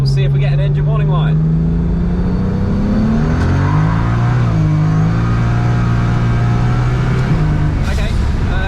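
A car accelerating from 40 to 80 km/h, the engine drone climbing steadily in pitch through the gears with a brief dip, loud and close from inside the cabin, no talk over it.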